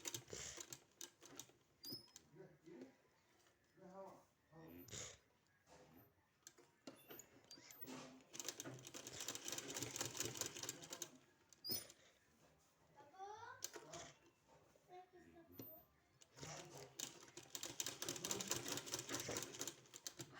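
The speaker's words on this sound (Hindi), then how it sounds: "हर दाग में इसी तरह से सिलाई लगा देना है।" A sewing machine stitching a decorative sleeve design, running in bursts that stop and restart, with a voice talking between and over the runs.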